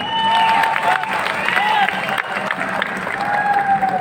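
Audience clapping at a meeting with a taxi driver from Shamshabad Airport; steady, dense applause with some crowd noise holds for the whole stretch, with no other sound standing out.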